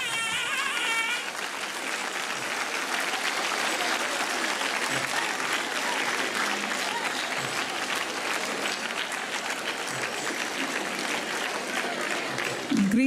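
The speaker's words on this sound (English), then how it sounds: "I request all of you to kindly stand up and give a warm applause." Warm applause from a large standing audience greeting dignitaries arriving on stage at a National Voters' Day celebration, a dense, steady wash of clapping that holds loud and even for the whole stretch.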